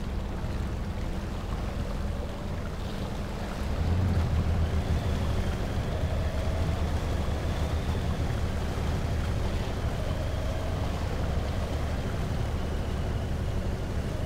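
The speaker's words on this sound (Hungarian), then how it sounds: "Majd most vizen fogok átkelni, nem szeretnék nagyon mélybe belemenni, de ez nagyon lassít." A truck wades slowly through water in the Spintires MudRunner video game, a continuous churning, splashing wash with a low engine rumble that swells slightly partway through, with no talk over it.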